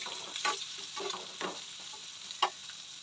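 Chopped onion fries in a pan for an egg curry: a soft, continuous sizzle runs throughout, broken by several brief scraping stirs and one sharper clink near the end.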